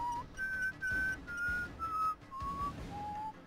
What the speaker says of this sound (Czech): Hlavně když si tady pořád musí někdo pískat.